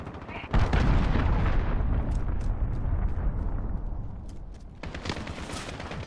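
A missile detonates in Call of Duty: Modern Warfare: a sudden, loud, close blast followed by a long, heavy rumble that slowly fades, with sharp gunfire cracks breaking through near the end.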